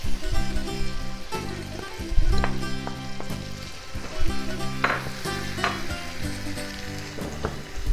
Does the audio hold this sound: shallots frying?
yes